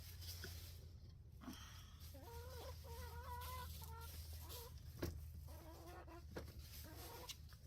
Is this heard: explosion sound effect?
no